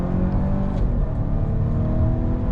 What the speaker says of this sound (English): that V6 engine kicks in, the supercharger kicks in.